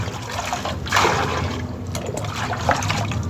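Light-coloured clothes are washed by hand, and water trickles, splashes and sloshes in short uneven bursts, fairly close, with no talk.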